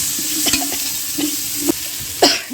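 Finely chopped tomatoes sizzle and fry in a pan with crushed garlic, ginger, green chilli and coriander powder for a simple biryani, with a steady close sizzle and a few scraping stirs.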